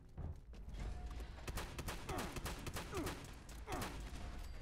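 Rapid gunfire in the Fallout 76 video game, a burst of sharp shots with mechanical clatter running close and loud throughout, with no talking.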